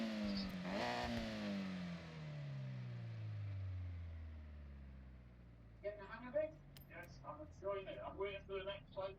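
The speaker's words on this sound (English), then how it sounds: "Sounds like a proper sports car" A sports car engine in Forza Horizon 6 revs hard, then its pitch sweeps down as the engine winds off over several seconds. Close talking follows in short bursts over a low engine idle.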